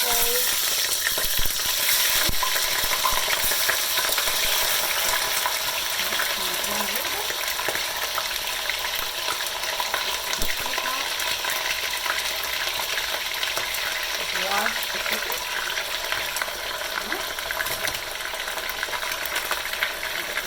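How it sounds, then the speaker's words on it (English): Chicken sautéing in a hot skillet, a steady sizzle and constant crackle with occasional clinks of a utensil, no talking. "we're now going to put the chicken in. It's going to start frying"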